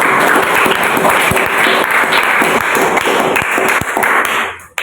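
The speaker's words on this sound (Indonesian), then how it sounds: "Tepuk tangan dulu yuk, tepuk tangan." An audience in a classroom gives sustained, loud, dense applause for a few seconds, many hands clapping together before it cuts off abruptly.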